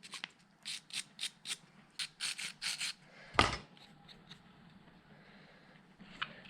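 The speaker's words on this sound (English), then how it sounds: "with our really soft brass wire brush, just going to give that a bit of a scrub" A soft brass wire brush scrubs between raised lettering on a Toyota FJ40 heater box part, giving a run of short, rhythmic rasping strokes up close, followed by one sharper scrape and then quieter scattered brushing.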